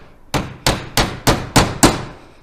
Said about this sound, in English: just nailing up the battens that hold the glass in.